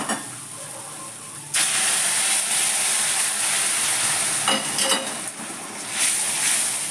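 Water poured into a pan of well-cooked spice paste for a fish curry, setting off a sudden loud burst of hissing and steaming sizzle that keeps bubbling steadily with a few stirring scrapes.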